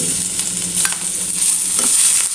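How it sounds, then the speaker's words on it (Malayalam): Garlic and ginger fry in oil in a pan, giving a steady close sizzle with stirring scrapes throughout and no talk. "നമ്മൾ പാനിലേക്ക് ഓയിൽ ഒഴിച്ചു കൊടുത്തിട്ടുണ്ട് അതിലേക്ക് രണ്ട് മൂന്ന് വെളുത്തുള്ളി ഒരു ചെറിയ കഷ്ണം ഇഞ്ചി"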